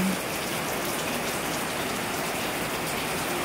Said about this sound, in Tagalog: Panay lang po ang ulan.